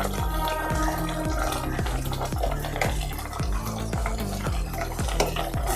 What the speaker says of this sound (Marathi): मिक्स करूया।